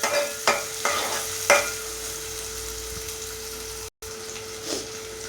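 Onions and green chillies fry in hot oil for a beans curry, a steady close sizzle broken by several sharp stirring scrapes near the start and a brief cut-out partway through.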